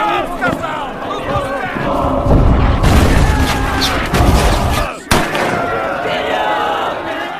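Film battle scene with dense gunfire, booming explosions and shouting crowds, loud and continuous, with a sharp cut to near silence just after five seconds before the chaos resumes.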